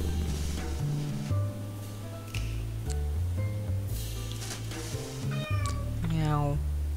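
Sunny the cat meows repeatedly in the video game Lone Survivor, with rising and falling cries over low, droning synth tones and scattered game effects, the last meow a long drawn-out one.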